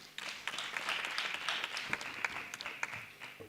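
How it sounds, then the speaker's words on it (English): Audience members at a university postgraduate research day clap for a presenter after her talk, with scattered, moderately sparse claps that sound fairly faint and distant and fade near the end. "A round of applause to her."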